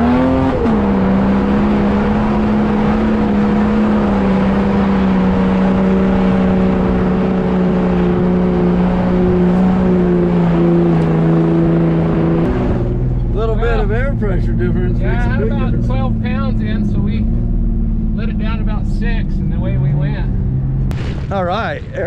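An off-road vehicle climbs a sand chute with its engine revving hard in a loud, sustained roar that shifts pitch and then eases to a rougher note, while people talk and shout over it.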